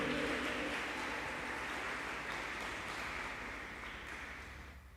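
Congregation applauding the King of Kings during a Spanish-language church service, a broad steady wash of clapping that slowly fades over the final seconds.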